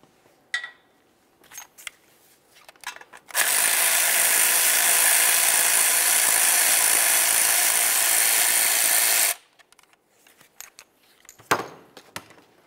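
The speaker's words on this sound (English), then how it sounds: "to remove the slider pins, you're gonna have to use a 7 millimeter Allen head socket" A ratchet with a 7 mm Allen socket works the front brake caliper slider pins on a 2011-2018 Volkswagen Jetta: a few scattered clicks, then a loud, steady mechanical whir lasting about six seconds, then more sharp clicks.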